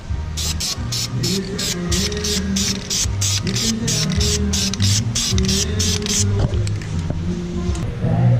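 Repeated short bursts of aerosol spray hiss in a steady rhythm, then stop, over a low background hum and faint music.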